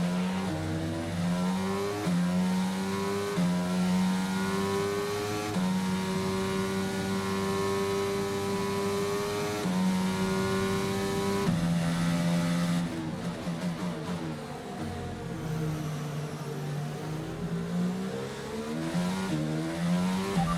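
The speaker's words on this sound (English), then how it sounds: "A safety car is being deployed." Race cars in a racing game accelerate and roar in a dense, continuous engine drone of revving, shifting pitch, loud and steady with no talk.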